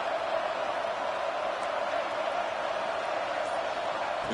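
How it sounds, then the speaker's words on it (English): A college football playoff stadium crowd roars on a 4th-down defensive stand, a steady, distant wash of massed voices that holds evenly throughout without sharp peaks. "The crowd is roaring, trying to help this defense on 4th down"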